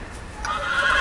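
A horse in a Game of Thrones video game lets out a single loud, close whinny that rises in the second half of a brief moment.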